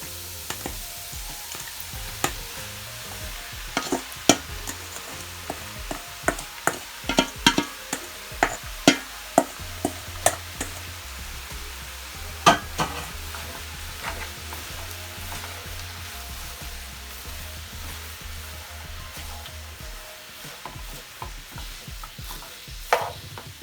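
Callaloo frying in a pan with a steady sizzle and repeated sharp clinks and scrapes of a spoon stirring, loud and close throughout.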